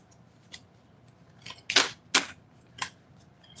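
Tarot cards being shuffled by hand, a series of short crisp riffling snaps and flicks, a few soft ones followed by several louder bursts, close and quiet with no talking.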